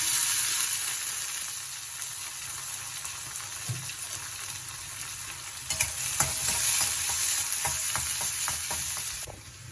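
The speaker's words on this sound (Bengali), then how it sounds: "এবার দিয়ে দিলাম কুচনো পেঁয়াজ" Chopped onion dropped into hot oil with garlic and split chillies, frying with a loud, continuous close sizzle and occasional spoon scrapes and stirring clicks toward the end.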